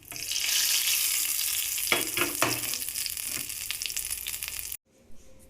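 Curry leaves, urad dal and a dried red chili fry in hot oil for tempering, giving a loud, close, crackling sizzle that fades and then cuts off abruptly near the end.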